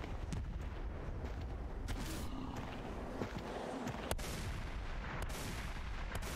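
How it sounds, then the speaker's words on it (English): Insect enemies fire shotguns in the video game Insane Insects, sharp blasts popping irregularly over a dense, steady rumble of game noise and ambience. "Are these bugs with shotguns?"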